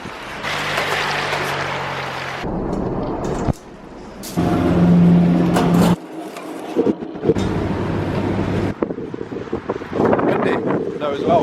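Gusty wind buffets the microphone on a rainy beach, a broad roaring rush that rises and drops in surges, with a voice speaking over parts of it.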